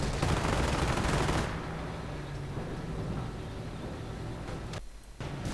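StuG 42 assault guns firing in a World War II strategy game: a dense, loud barrage of rumbling gunfire that eases after the first second, then carries on with a brief sudden dropout near the end.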